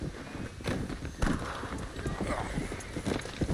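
Horse galloping in the video game Red Dead Redemption, quiet rhythmic hoofbeats running steadily throughout, with someone talking over them.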